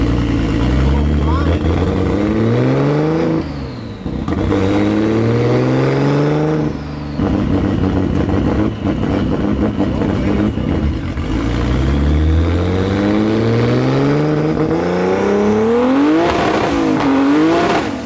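A turbocharged BMW E46 M3 drift car revs hard and slides sideways. The engine rises and falls in repeated surges with tire squeal, recorded loud from inside the cabin while people talk excitedly over it.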